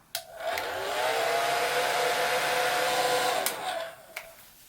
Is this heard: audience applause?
no